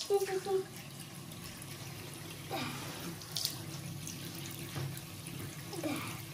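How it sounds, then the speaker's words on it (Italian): Water from a tap runs and splashes at a sink as a young child rinses her face at a birthday outing, a steady soft wash with a few brief splashes and faint voices in the background. "Dai, sciacquati un po' il viso che adesso passiamo al trucco"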